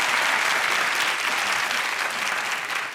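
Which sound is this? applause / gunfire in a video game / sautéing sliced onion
applause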